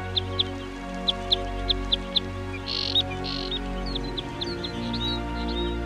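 Tiny birds of a winter flock give short, high calls in a larch tree beside a red crossbill, with a regular run of sharp chirps followed by a few twittering notes over a low background hum.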